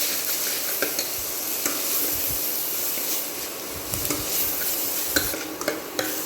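Onion and tomato sautéing in oil for an Indian egg gravy, a constant hissing sizzle with intermittent spatula scrapes and stirring strokes against the pan, near and with no voices.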